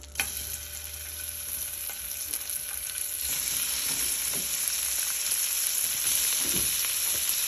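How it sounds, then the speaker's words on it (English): Shrimp sizzle and fry in hot melted butter, with a steady crackling hiss that builds slightly and holds throughout, plus occasional stirring clatter, close and fairly loud with no talking. "Now we're going to throw our shrimp in there."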